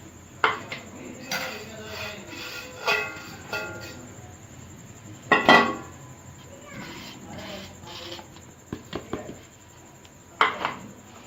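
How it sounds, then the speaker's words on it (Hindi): Green chillies being tossed with spice masala for a pickle, with intermittent scraping and clinking of a spoon against a metal vessel, in irregular bursts beneath occasional talking and a steady high background whine. "सारे मसाले को अच्छी तरह से मिक्स कर लें, मिर्चों को ऊपर नीचे करते हुए।"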